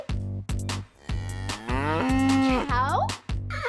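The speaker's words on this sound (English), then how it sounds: "Cow." A cow moos in a long, loud, drawn-out low call set against a repeating rhythmic backing beat, alone without talk.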